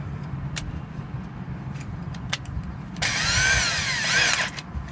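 A power drill whirs loudly for about two seconds while drilling wood, after some quiet clicks and handling noises, its pitch rising and then falling as it winds down.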